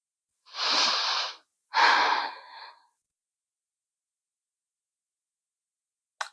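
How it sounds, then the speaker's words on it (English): Slow, deep breaths taken while holding a yoga pose: a long inhale, then a longer exhale, close and airy, followed by a stretch of silence. "we'll just take some breaths here"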